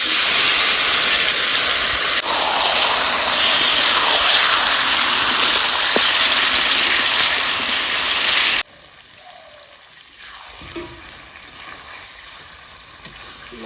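Spice-marinated chicken dropped into hot oil with browned bay leaves, a loud dense hiss and sizzle that cuts off abruptly, leaving quiet kitchen clatter.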